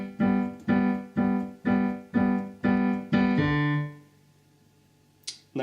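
A piano plays a chord from a song, struck seven times in an even rhythm, then a final chord rings and fades, followed by a brief click.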